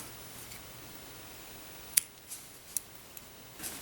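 Scissors snip through crochet yarn in a quiet room, a few faint, crisp clicks spaced apart, the sharpest one near the middle and another shortly after, over a low hush.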